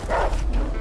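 A dog barks once in the video game A Way Out, a short, close, loud bow-wow standing alone.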